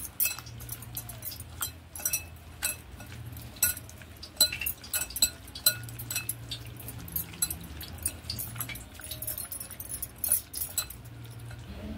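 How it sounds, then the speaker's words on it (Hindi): Prawns are mixed with ginger garlic paste in a bowl, giving a rapid string of faint clinks and wet clicks against a low background hum. "आता याला आपण मिक्स करून घेऊया"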